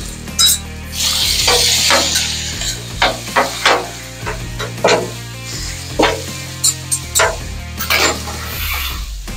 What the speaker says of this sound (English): Throw down some more olive oil for the beef tips.